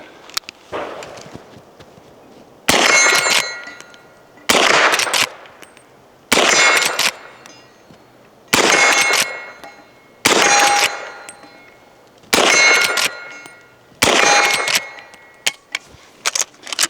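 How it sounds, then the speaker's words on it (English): Shots from a Henry Big Boy Steel carbine in .327 Federal Magnum firing 115-grain jacketed bullets at steel targets, about seven sharp, loud reports at a steady pace, each followed by a ringing clang and a short decay. "115 grain jacketed bullet, and we're gonna hit some steel with it."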